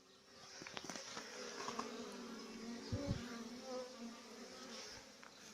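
Soft, continuous buzzing of many honeybees on a winter cleansing flight, fairly faint and distant, with an occasional louder bee passing near.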